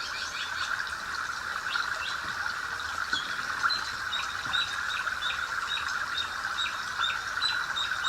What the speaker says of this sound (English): Sometimes you can hear a red-tailed hawk, or the crows,